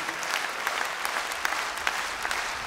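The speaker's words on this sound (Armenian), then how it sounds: "Եկեք ծափարենք այրադանս մեր պարախմբին" Audience at a live concert claps for a dance ensemble, a dense steady applause with sharp individual claps standing out, fairly distant and even throughout.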